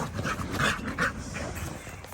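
A dog pants close by in a garden, quick rough breaths with faint whimpering tones running through a short stretch.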